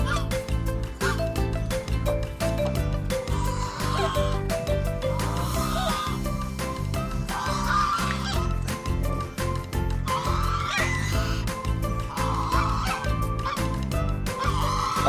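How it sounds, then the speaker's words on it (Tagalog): A flock of geese honks and cackles nonstop on a beach, loud and close, with a voice now and then speaking under the calls. "Yan, may gansa, matapang yan."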